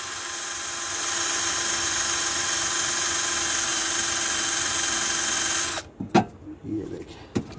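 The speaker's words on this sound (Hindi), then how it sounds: "जितना रिक्वायर्ड है उतना ही ड्रिल करेंगे" An electric drill bores out a broken bolt stuck in an engine head, giving a steady, close whine for about six seconds before it stops, followed by a few sharp metallic clicks and knocks.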